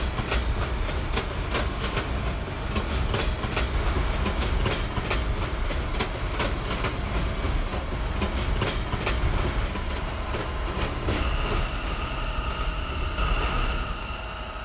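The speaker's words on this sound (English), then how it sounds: "this train is just so damn loud" A loud New York City subway train on the E line runs continuously, with heavy rumbling, clickety-clack wheel beats and a high wheel squeal rising near the end, with no talk.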